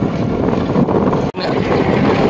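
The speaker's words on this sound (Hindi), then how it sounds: "काफ़ी तेज हवा चलनी शुरू हो चुकी है" Strong evening wind blows outdoors, a steady loud roar buffeting the microphone throughout, broken only by one brief dropout midway.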